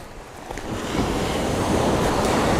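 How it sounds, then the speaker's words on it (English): Surf rolls in steadily on a black sand beach at Pohoiki, Hawaii, a broad, close wash of breaking waves that swells louder partway through, with some wind noise. "A beautiful, swimmable black sand beach."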